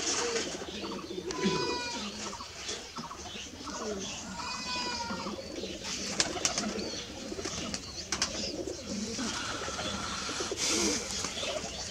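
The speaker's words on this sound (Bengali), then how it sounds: "এটা হলো জাগ কবুতর" Black Jag and Kaldum pigeons coo in a deshi Giribaj pigeon loft, low repeated coos under someone talking nearby, with goat-like bleats and other loft noises mixed in.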